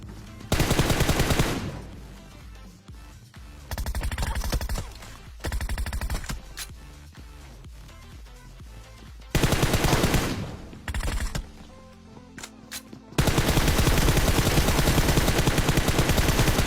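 Bursts of automatic gunfire from a PUBG Mobile firefight inside a barn house, loud sustained volleys broken by quieter gaps with scattered single shots and movement, ending in a long heavy stream of fire.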